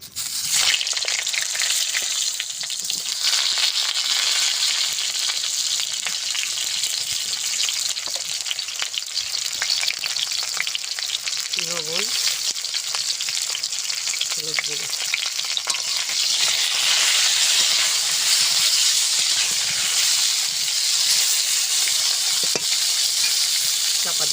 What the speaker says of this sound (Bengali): কড়াইতে দিয়ে দেবো সরষার তেল পটলগুলো ভেজে নেব দিয়ে দেব তেলে